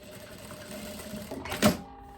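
A sewing machine stitches part of a tailored blazer with a quiet, steady mechanical whir that builds into a short louder burst before it stops.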